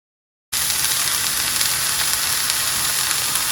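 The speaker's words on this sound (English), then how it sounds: "Right now we're just searing it" A chuck roast sears in a hot pan, a loud, close, continuous sizzle of frying meat that starts abruptly after a brief silence and holds steady throughout.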